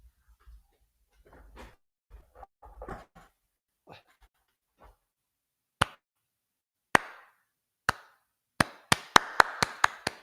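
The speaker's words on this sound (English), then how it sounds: "Slow clap." A slow clap: a few scattered faint sounds, then isolated sharp hand claps spaced about a second apart that gradually quicken into a faster run, each clap crisp and close.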